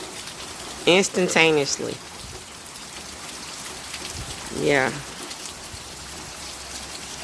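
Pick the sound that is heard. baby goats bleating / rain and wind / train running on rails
rain and wind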